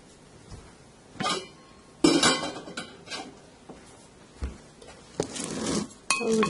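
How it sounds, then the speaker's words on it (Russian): A spoon clinks and scrapes against a bowl while a seasoned mixture is stirred for spinach soup: sharp metallic and glassy taps come in uneven bursts, close and fairly loud, with quiet pauses between them. "Полученную смесь мы просто перемешиваем."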